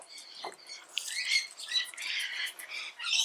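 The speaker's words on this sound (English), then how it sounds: "a bunch of parrots just flew overhead" A flock of parrots squawks overhead in a series of loud, harsh, overlapping calls that come and go over a few seconds, with no talking.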